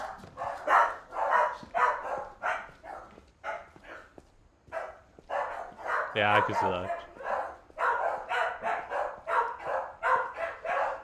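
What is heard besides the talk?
dogs barking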